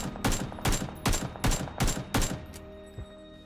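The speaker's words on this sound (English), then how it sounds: "The AKM without a suppressor feels sharp and powerful." Unsuppressed AKM rifle in the video game PUBG firing six loud, sharp shots in a rapid, even rhythm, followed by one fainter shot after a short pause.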